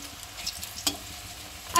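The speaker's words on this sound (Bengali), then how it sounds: "কি দিয়ে ভেজেছো? ঘি আর রিফাইন তেল।" Pitha frying in a pan of ghee and refined oil gives a steady, soft sizzle with a few faint stirring clicks and a sharper scrape near the end; nobody speaks.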